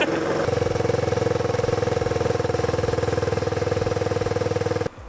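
A record-setting high-speed lawn mower engine revs hard and steadily on a dyno for several seconds, a loud, rough, continuous mechanical roar that stays close and cuts off abruptly near the end.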